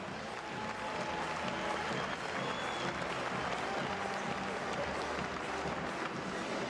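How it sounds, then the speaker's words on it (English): Audience applause at a world fitness championship final, a dense, steady wash of clapping from a large crowd that holds at an even, fairly loud level throughout. "Big applause for our masters."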